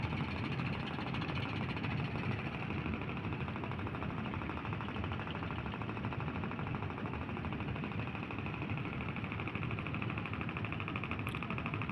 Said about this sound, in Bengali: আমাদের জাহাজ।